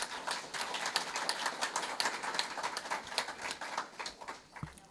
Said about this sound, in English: Let's give Brian a big round of applause, everybody.